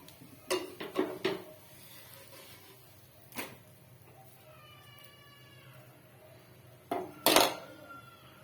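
Freshly made roti, cooked from health-mix flour, goes into a serving bowl in a home kitchen: a few quick clinks and clatters of dishware at the start, one more knock, then a louder double clatter near the end, with a faint wavering tone between.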